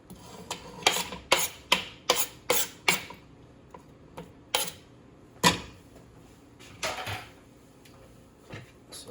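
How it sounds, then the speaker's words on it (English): Chopped onions stirred into browned ground beef in a pan, a quick run of scraping, rubbing strokes that slow to a few scattered scrapes, close and fairly loud with no talking. "we are going to stir in the onions,"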